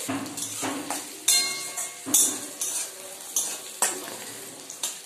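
Green chillies frying in a pan, a soft sizzle under repeated spatula strokes that scrape and clink against the metal about once a second, close and uneven.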